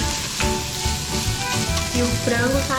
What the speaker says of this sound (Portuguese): Vamos mexer um pouquinho até a gente ver que ele vai soltar o amido e começar a ficar um pouco mais grossinho.